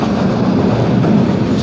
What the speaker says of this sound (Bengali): এগুলা দেখতে দেখতে আমাদের ট্রেন চলে যাচ্ছে চট্টগ্রামের উদ্দেশ্যে